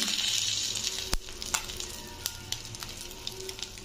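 Cumin seeds hit hot oil after shingi fish has been fried, giving a steady sizzle. Several sharp clicks and pops from a utensil or stirring cut through it.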